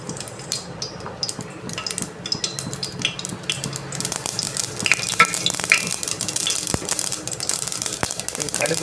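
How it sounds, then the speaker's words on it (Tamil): Mustard seeds splutter and pop in hot oil in a shaken pot, a dense, loud crackle of quick sharp bursts that grows busier partway through, with light metallic clinks. "இந்த மாதிரி ஷேக் பண்ணி விட்டுட்டா கடுகு பொரிச்சிடும்"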